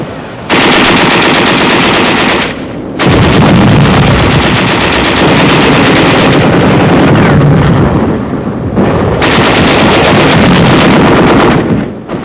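Continuous heavy machine gun fire rattles in long sustained bursts with dull booms of artillery shells mixed in, loud and dense, broken by brief pauses, as in a 1945 wartime newsreel of an advance on a besieged city.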